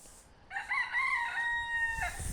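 René the rooster gives a single long crow, loud and close, a clear drawn-out call lasting about a second and a half over faint background noise.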